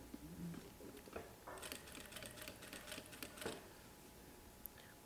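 A sewing machine stitching bias binding along a pressed crease, running in short intermittent bursts of rapid, even needle clatter at a quiet, close level.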